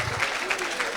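A church congregation at a French-speaking prophetic service applauds, a short, dense burst of clapping with voices mixed in.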